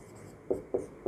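Pen or marker writing out a chemical reaction on a board or page, three short scratchy strokes in quick succession, close and distinct, no talk.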